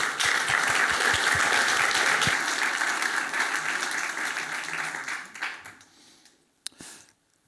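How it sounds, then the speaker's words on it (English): Applause from a tech conference audience after a speaker is introduced: a full, steady burst of many hands clapping that tapers off over several seconds and leaves near silence with a small knock. "Can we give him a round of applause, please?"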